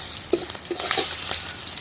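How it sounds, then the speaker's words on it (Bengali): Dry red chillies frying in hot oil in a wok, a loud close continuous sizzle with a few crackles and pops, no talking. "তেল গরম হয়ে গেছে বন্ধুরা, কয়েকটা শুকনো লঙ্কা দিয়ে দেবো"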